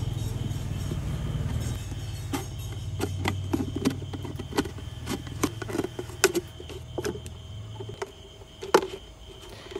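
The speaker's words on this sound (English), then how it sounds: "During cutting, use the sharp scissors." Sharp scissors snip through a plastic bottle being cut for a vertical garden, a quick series of crisp clicks and crackles over a low steady hum that fades near the end.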